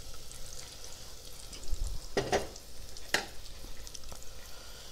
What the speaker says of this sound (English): Now I'll be adding my green chilies.